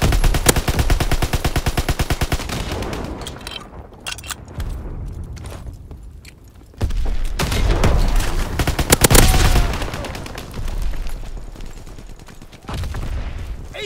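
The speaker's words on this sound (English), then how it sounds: "Push the enemy back! Defend the artillery guns!" Rapid automatic gunfire and bursts of shots from a Call of Duty WWII match, loud and close, with an artillery-defence objective under way and a brief exclamation from a voice.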